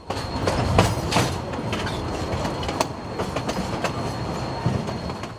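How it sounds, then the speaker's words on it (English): The historic Cumbres & Toltec Scenic Railroad train rolls along mountain track in the Rockies, its wheels giving a steady rumble with sharp clickety-clack rail joints and faint squeals, loud and close throughout with no voices. "The train rolls into a long tunnel carved out of a mountain"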